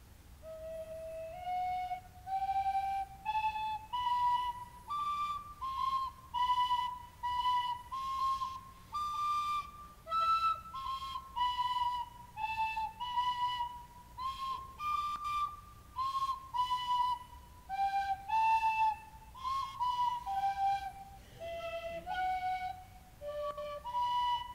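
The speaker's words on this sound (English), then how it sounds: "I want you two to just play something real quickly for me on your tin whistle together" Two tin whistles play a theme together, a clear melody of distinct sustained and stepping notes over about twenty-five seconds, fairly soft and alone without talk.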